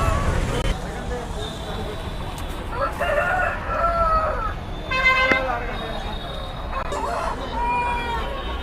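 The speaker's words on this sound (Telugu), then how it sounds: "చూస్తున్నారుగా ఈ అన్ని కోళ్ళు." Country chickens and roosters at the weekly Nallapadu poultry market crow and cluck repeatedly amid crowd babble, people talking nearby and distant traffic noise.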